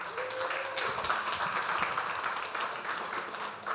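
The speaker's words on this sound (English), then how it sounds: "If I can ask you for a round of applause," A conference audience at a university career event gives a round of applause, a steady broad clapping that stays even and fairly loud from start to finish.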